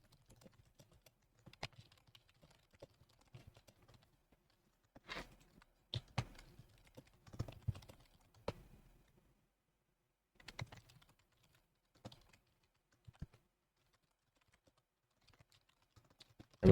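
Quiet computer keyboard typing comes in scattered bursts of rapid key taps separated by pauses, close but faint, with no talking.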